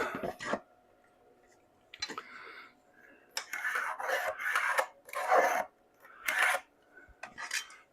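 A pencil drawn across wooden bench stock to mark a cut line gives close, scratchy rasping strokes in short bursts separated by brief pauses.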